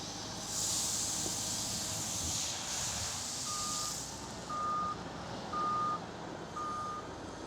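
A Volvo wheel loader moves toward a truck, its engine a steady, hissing drone. Four evenly spaced reversing beeps sound clearly over it partway through.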